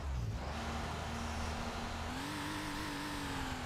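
A Porsche 911 Turbo engine in the Need for Speed Porsche Unleashed racing game gives a loud, steady drone throughout, its pitch climbing slightly toward the end, with no talking.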